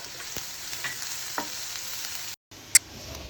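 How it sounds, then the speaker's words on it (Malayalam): Finely chopped green chilli and onions sautéing in coconut oil in a hot pan give a steady, close sizzle with light stirring scrapes, a brief dropout and one sharp clink near the end. "പാൻ ചൂടാവുമ്പോൾ 2 ടേബിൾ സ്പൂൺ വെളിച്ചെണ്ണ ഒഴിച്ച് ഒരു പച്ചമുളക് ചെറുതായി അരിഞ്ഞതും 2 സവാള ചെറുതായി അരിഞ്ഞതും ചേർത്ത് നന്നായി വഴറ്റിയെടുക്കാം"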